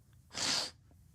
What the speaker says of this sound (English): God, I hate sneezing.